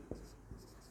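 Chalk or marker taps and scratches on a board during a physics lesson, two brief soft strokes, faint and close.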